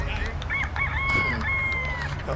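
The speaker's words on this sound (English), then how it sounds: "I've seen a couple of roosters. And they're crowing as well." Roosters crow in Barbados, where they are known as yard fowls, giving a clear, fairly close cock-a-doodle-doo over a steady low background rumble.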